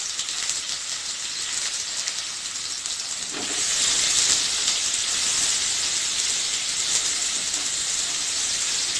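Chopped onion and cumin sizzle in hot oil in a kadhai while browning toward golden, a steady, bright frying hiss that swells louder a few seconds in and holds without any talking.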